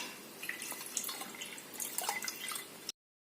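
Water drains from soaked rice set aside before grinding for rice sweet balls, a soft, steady trickle and scattered drips that stop abruptly, with no talk.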